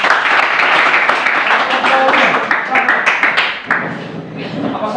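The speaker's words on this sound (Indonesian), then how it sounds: "Biasa dari kelompok pertama kita kasih dulu aplaus." A classroom audience applauding the first group of students, a dense burst of clapping filling the room and then tapering slightly, with voices mixed in underneath.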